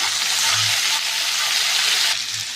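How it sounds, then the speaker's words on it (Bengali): Beans, potato, tomato and green chillies with salt and turmeric fry in hot oil, giving a loud, continuous sizzle and hiss close by that eases slightly near the end, with no voices. "তেলের উপর দিয়ে দেবো বিনস আলু আর টমেটো, 5টা কাঁচা লঙ্কা দিয়ে দেবো, নুন দিয়ে দেবো, হলুদ দিয়ে দেবো, ভালো করে ভেজে নেব"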